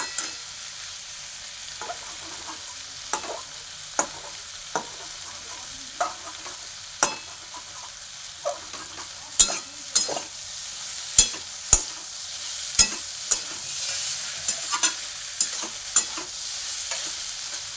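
Kalai greens sizzle steadily in a pan under a run of sharp spatula strokes against the metal. The strokes come close and fairly regular, about one every second or so, getting quicker toward the end, with no talk.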